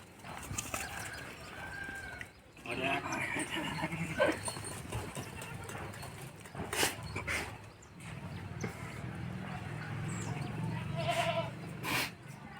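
Goats bleat repeatedly at close range in a livestock setting, their calls scattered among ongoing talk and farmyard background noise.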